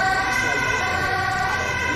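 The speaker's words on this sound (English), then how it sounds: "Their sirens here are crazy loud." An emergency vehicle siren wails very loud and close on an Amsterdam street, a continuous steady tone filling the whole moment with no pause.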